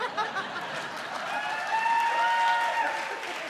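Applause from an awards-show audience at a celebration of LGBTQ+ cinema and television, a soft steady clapping that swells slightly mid-way, with light chuckling mixed in.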